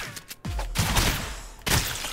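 A sharp, loud burst of video game gunfire in ROUNDS, with a second hard impact about a second later, close and dominating the brief moment.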